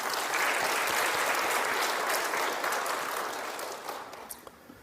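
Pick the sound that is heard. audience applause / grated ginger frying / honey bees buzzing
audience applause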